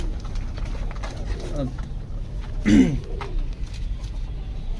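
French pigeons coo softly in a loft, a short rolling coo rising briefly amid steady background noise while someone talks over them.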